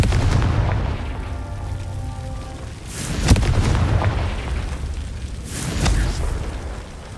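Confringo fire spell explosions in the Hogwarts Legacy video game: loud booming blasts around the three and six second marks over a constant rumbling game backdrop, with heavy low-end bursts.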